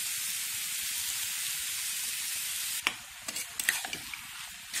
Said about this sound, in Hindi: इसको हाथ से मिक्स कर देंगे।